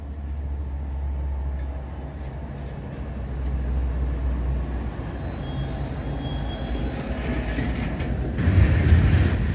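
A short train led by four locomotives rolls past on a rail line near Montgomery with a continuous low rumble of engines and rolling wheels. The sound swells slightly toward the end, as if the cars pass close by.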